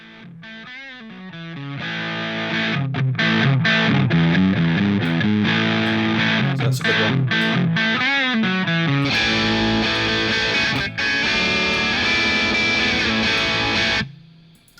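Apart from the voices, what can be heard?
electric guitar through Boss DS distortion pedal plugin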